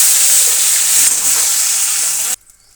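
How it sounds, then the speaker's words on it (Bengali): Ripe tomato sizzles in hot oil in a pan, a loud, close, steady crackle that cuts off abruptly just before the end. "এখন একটু টমেটোটা একটু ভাজা ভাজা করে নিয়ে তাতে একটু জল দিয়ে দেবো।"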